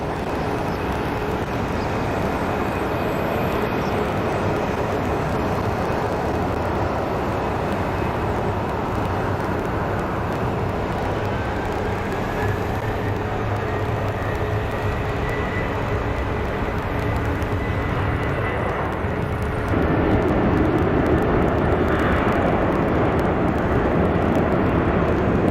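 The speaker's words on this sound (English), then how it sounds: "let's look at some of the FedEx feeders coming in" FedEx feeder aircraft arriving at Phoenix Sky Harbor airport, a continuous loud engine roar that holds steady for the whole stretch and swells a little louder near the end, with no speech.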